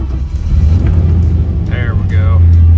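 A 1966 Pontiac Tempest with a freshly installed TH350 transmission drives along a road, its engine rumbling loud and close with a deep steady low drone that swells slightly as it pulls, brief voices faintly overlapping partway through.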